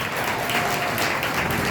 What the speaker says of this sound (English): Clap if you've ever heard that song before.